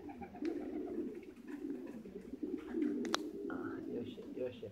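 Pigeons in a loft give low, soft cooing that rolls on steadily in the background, fairly faint, with a few sharp clicks and knocks mixed in.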